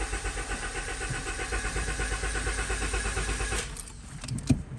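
A 2005 Honda Civic engine, treated with Seafoam, cranks with a steady pulsing whir for several seconds before catching and falling quiet, followed by a couple of brief clicks and knocks, close and fairly loud.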